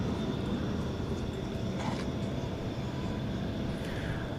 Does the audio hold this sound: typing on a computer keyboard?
no